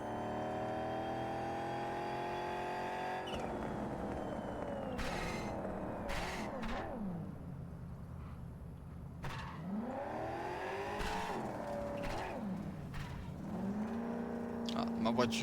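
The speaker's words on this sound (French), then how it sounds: "Ah, ma voiture ne veut pas aller plus vite." Car engine in the video game Cyberpunk 2077, a steady drone whose pitch rises and falls as the car speeds up and slows, with sharp bursts on top and someone talking over it.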